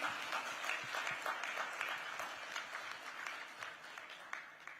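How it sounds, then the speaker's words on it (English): Audience applause at the Digit Zero1 Awards 2024 tech ceremony: a continuous wash of many hands clapping, fairly soft and slightly distant, slowly tapering over five seconds. "To the whole Digit team, a huge round of applause,"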